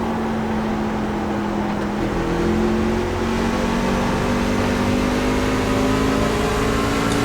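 Truck-series race cars on an oval racetrack roar past continuously, layered engine drones with rising and falling pitch lines, loud and close throughout with no voices.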